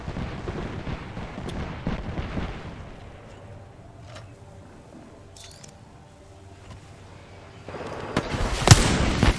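Gunfire in Apex Legends: scattered loud shots and bursts at the start, a quieter stretch with faint distant pops, then a heavier close burst of fire near the end.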